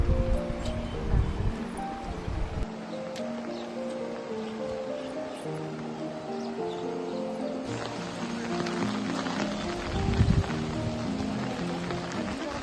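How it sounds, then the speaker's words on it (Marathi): Muddy floodwater rushing down a swollen river in Kolhapur after heavy rain, a steady broad roar close by, with occasional louder surges and some background rustle. "खूप असं खदूळ पाणी नदीला आलेलं आहे"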